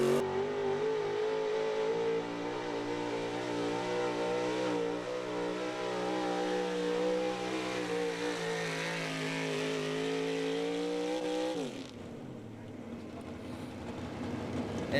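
A 1971 Chevy pulling truck nicknamed the Wild Thing roars at a truck pull, its engine holding a loud, steady high-revving drone with rising pitch before cutting off sharply near the end, leaving a quieter rumble.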